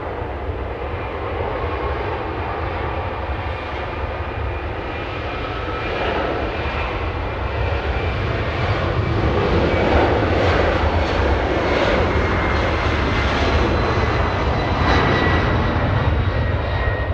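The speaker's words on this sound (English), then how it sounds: "And 767, that was Delta's 2966 flying to New York City" A Delta Boeing 767 jet flying out of Los Angeles International Airport makes a broad, continuous engine roar that swells gently louder toward the end, with no voices over it.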